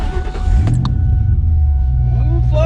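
A car with Flowmaster exhaust starts up and rumbles into motion, a loud, steady low drone that rises slightly as it pulls away, with voices talking over it.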